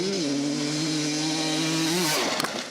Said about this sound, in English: just beautiful to hear a 300 revved up and pinned in the silence of a forest